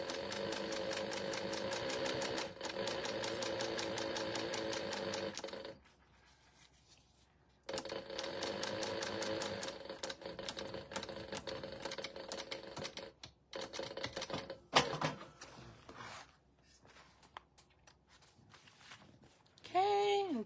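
Sewing machine running in bursts while top stitching a zippered cosmetic case, with loud rhythmic stitching runs broken by pauses and small handling clicks.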